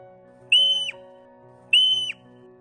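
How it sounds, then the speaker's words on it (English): Two clear, high whistles from an endangered Vancouver Island marmot, each a steady sustained note about a third of a second long, separated by a pause, over a faint low background hum. "the whistle of the endangered Vancouver Island marmot"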